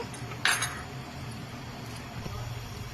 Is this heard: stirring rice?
yes